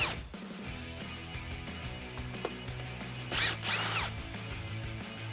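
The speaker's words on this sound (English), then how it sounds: "you can remove 2 10mm bolts holding on the top of your grill" Power tool spinning out two 10mm bolts along the top of a 2012-2015 Toyota Tacoma grille, heard as short whirring bursts late in the clip over a steady low background hum.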